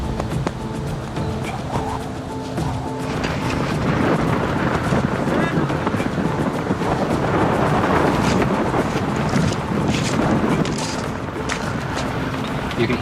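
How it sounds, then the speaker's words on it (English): A loud, steady roar of wind buffets the microphone, broadband and continuous, carrying gravel ahead of a drizzly storm, with a voice speaking faintly early on. "You can hear the roar of the wind and the gravel being brought towards you."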